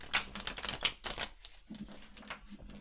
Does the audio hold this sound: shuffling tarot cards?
yes